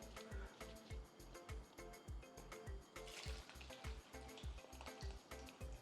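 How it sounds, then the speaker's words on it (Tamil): Okra frying in hot groundnut oil, a loud continuous sizzle with rapid bursts of crackling and popping and faint stirring noises, close up and steady throughout. "எண்ணெய் சூடானா நம்ம இந்த வெண்டைக்காவை பொரிச்சு எடுத்துக்க போகிறோம்"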